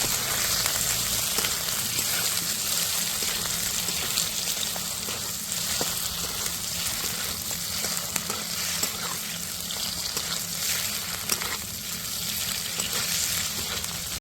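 Small pieces of paneer frying in white oil, a steady bright sizzle with faint stirring crackles running evenly throughout and nobody speaking.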